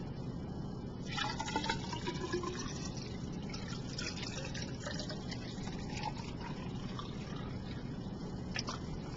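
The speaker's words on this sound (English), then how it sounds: "fill the cylinder with water." Water steadily pouring into a graduated cylinder fitted with a small side tube, a continuous soft hiss of filling liquid with faint drips, low and close.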